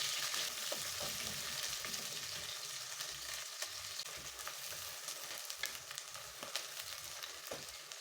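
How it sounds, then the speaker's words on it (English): Chopped onions fry in oil in a sufuria with a faint, steady sizzle and crackle, stirred now and then with soft scraping taps, and no one speaking. "In a sufuria, heat some oil and add your chopped onions, stir it and saute until it's translucent."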